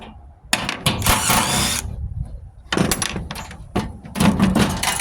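Drill removing the motor from an old scrap Ruud furnace, whirring in several short bursts with clattering metal and pauses between them, fairly close and loud.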